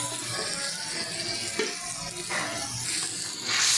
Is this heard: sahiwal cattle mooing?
no